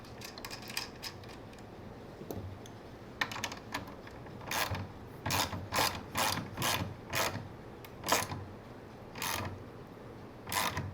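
A screw being driven into a small birch table during assembly, heard as a series of close, crisp ratcheting clicks in uneven bursts, with short pauses between groups of turns.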